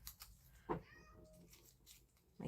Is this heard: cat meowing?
yes